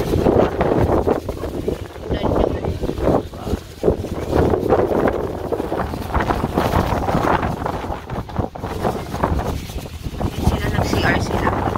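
Strong wind buffets the microphone in a constant loud rumble with gusty surges outdoors in Tanay, Philippines, and voices talk underneath it.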